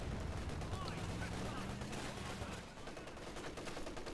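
Rapid gunfire from a machine gun placement in the World War II strategy game Company of Heroes 2, a dense, continuous crackle of shots and battle noise running throughout, with faint in-game voices mixed beneath.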